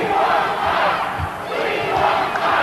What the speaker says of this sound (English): Crowd chanting about Spike Huber to Tully Blanchard.